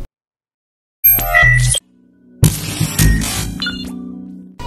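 A bright notification bell ding rings out, a short chiming sound effect with ringing tones, heard twice with a pause between, loud and close with no talking.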